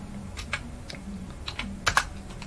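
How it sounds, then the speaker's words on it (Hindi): Keys are tapped on a computer keyboard while entering values into an Excel spreadsheet, with soft, close, irregular clicks and a quicker burst of keystrokes near the end. "तो यहाँ पे हम टाइप कर देंगे 9।"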